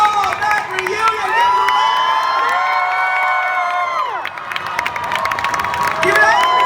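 A packed convention hall audience at a comic expo reunion panel roars with sustained cheering, shrill screams and whoops over clapping, staying loud the whole time with a brief dip midway before swelling again.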